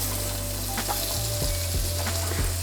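Onions sizzling in a hot frying pan for a miso butter salmon dish, a steady close crackle with a few sharp clatters of the pan or utensil as they go in.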